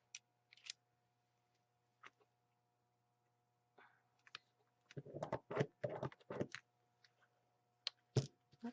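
Scissors snip to cut a bigger hole for an eyelet in card, a few faint clicks, then a close cluster of sharp cutting snips and a final crisp cut.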